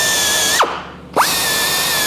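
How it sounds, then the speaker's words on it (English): A small air drill with a brush works a weld on big stainless pipe. It runs at a high steady whine, drops in pitch as it bogs down under load for about half a second, then spins back up. "So this is where this little air drill is really handy."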